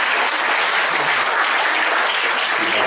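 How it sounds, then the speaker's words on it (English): Loud, sustained applause from an audience for Dr. Rege, a thick even wash of many hands clapping together throughout, with no speech over it. "Please give a round of applause to Dr."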